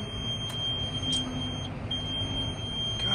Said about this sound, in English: It never stops beeping, this tractor.